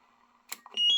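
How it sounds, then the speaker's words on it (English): A 5-tone old school Roger beep on a CB radio: faint static hum, then a short burst and a quick rising run of bright electronic tones ending in a sustained beep. "5-tone old school Roger beep."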